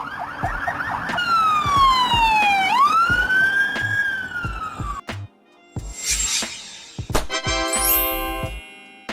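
Ambulance sirens from Slovenia, with vehicles from Mercedes-Benz, Volkswagen and Renault, loud and close. A rising and falling wail gives way to sweeping tones, then short bursts of higher electronic yelps, with abrupt cuts between sirens.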